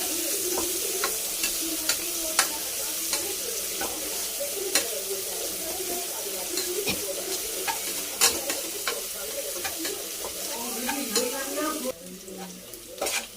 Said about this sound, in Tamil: நல்லா பொன்னிறமாக வதக்கணும்.